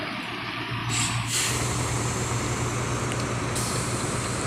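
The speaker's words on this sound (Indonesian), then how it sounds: "bus AS270 diberangkatkan" An ALS 270 intercity bus leaving for Medan gives a sharp air-brake hiss, then a steady, loud diesel engine rumble.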